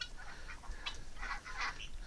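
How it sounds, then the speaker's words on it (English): Rouen ducks in a backyard flock give soft, muffled quacks and chatter at moderate distance, a few low calls blending into steady outdoor background noise. "let me give you a quick look at our Rouen Ducks"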